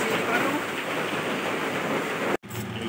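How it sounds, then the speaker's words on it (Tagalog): Heavy typhoon rain pours steadily as a dense, loud hiss, broken by one abrupt momentary cutout near the end. "Lakas ng ulan."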